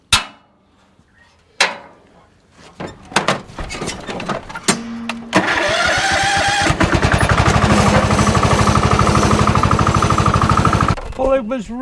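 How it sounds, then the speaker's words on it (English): Small engine of a Cub Cadet ride-on lawnmower converted into a small tractor, with its electronic PTO failed, comes in after a few scattered clanks and knocks, then runs close and loud as a steady, rapid chugging for several seconds before cutting off. "it was originally a Cub Cadet ride-on lawnmower"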